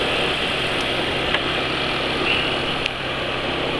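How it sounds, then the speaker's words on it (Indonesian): A motorcycle engine running on Kendall GT-1 oil idles with a smooth, steady hum, close and even, with a couple of faint clicks over it. "suara motor penulis lebih halus dari motor-motor lain"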